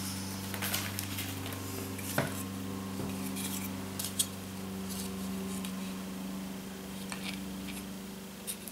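Scissors snip through a ribbon strip during a hand embroidery craft, giving a few faint, close metallic clicks and cuts over a low steady background hum.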